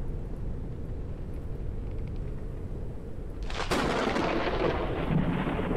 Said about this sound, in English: they made the thunder and lightning noises much quieter